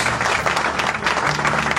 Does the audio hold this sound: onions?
no